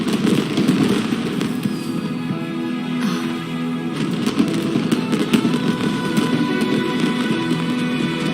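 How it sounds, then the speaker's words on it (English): Fireworks burst in Genshin Impact, a soft booming crackle that sits over a continuous bed of game music and ambience with no distinct loud pops. "you see that? Way over there, a firework that looks just like a pig!"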